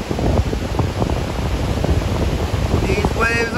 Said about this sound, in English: These waves are gnarly.